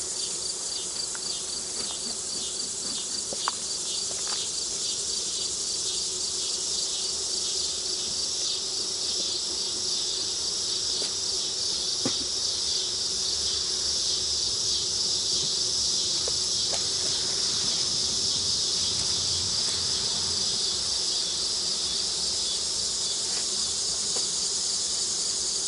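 Honeybees fanning at a beehive during an inspection make a steady, dense buzzing hum that stays loud and unbroken throughout, with no talking.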